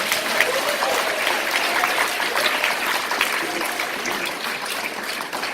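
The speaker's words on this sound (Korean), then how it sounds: "다시 한번 큰 박수 부탁드리겠습니다" A large audience at a motivational corporate event gives sustained, hissing applause that fills the room evenly, steady and fairly loud from start to end.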